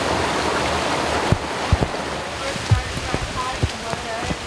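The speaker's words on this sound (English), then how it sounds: "Rain cools you off." Rain falls during a kids' hike, a steady hiss of drops on the ground with a few sharper thumps and splats scattered through it, fairly close and continuous.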